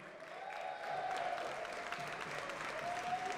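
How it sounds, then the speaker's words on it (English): An esports audience at a Dragon Ball FighterZ World Tour last chance qualifier applauds and cheers steadily throughout, a dense sustained clapping crowd without a break. "Please give a round of applause for your last chance qualifier, number four."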